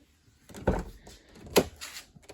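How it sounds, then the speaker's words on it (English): The door of a C5 Corvette being shut, heard as two separate dull thumps about a second apart, close and moderately loud against a quiet background, with no talking. "So we have to shut the door."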